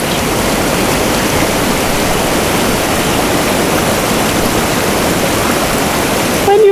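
A river in Patagonia rushing steadily, broad continuous wash of water noise close by, with a brief faint voice or sound at the very end.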